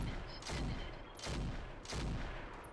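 Mech weapons in Roguetech firing at a Mjolnir mech, three heavy booming shots in quick succession, each with a long rumbling blast.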